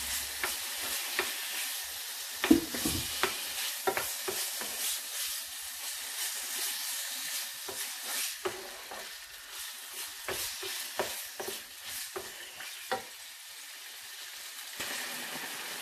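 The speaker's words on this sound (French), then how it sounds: "je commence par faire cuire 2-3 minutes le bœuf dans de l'huile bien chaude" Beef pieces searing in very hot oil, a continuous bright sizzle and hiss broken by frequent spatula clicks and scrapes, close up and fairly even in level, with no talking.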